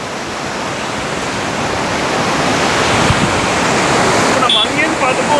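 A waterfall at Munnar in Kerala runs on like a river, a dense, continuous rush of water that swells slightly louder as it goes on.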